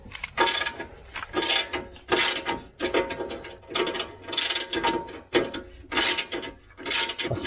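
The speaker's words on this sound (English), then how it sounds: "I got to remove this here skid plate, and there's 3 15mm bolts holding it" A ratchet loosening the 15mm skid plate bolts on a 2018 Chevy Colorado, heard as repeated rasping clicks in short strokes with brief pauses between them, close and loud with no talking.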